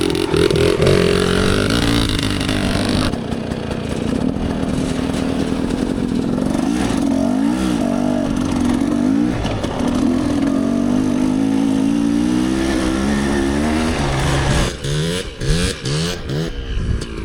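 A dirt bike engine on a single-track mountain trail in South Fork, Colorado, held in first gear, loud and close with continuous revving that rises and falls throughout.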